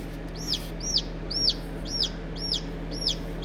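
A newly hatched chick chirps in a steady series of about seven bright, rising-falling peeps spaced roughly half a second apart, close by, over a low constant hum from an incubator.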